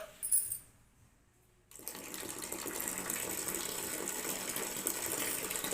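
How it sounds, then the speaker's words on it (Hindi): Water gushes from a tap to fill a bath for a small child, a steady close rushing stream that starts abruptly after a brief quiet pause and keeps running to the end, with no talking. "पानी चलाओ।"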